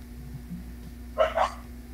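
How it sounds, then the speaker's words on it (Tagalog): Two quick dog barks at a distance, faint and close together, over a low steady hum. "Wala na, may mga aso."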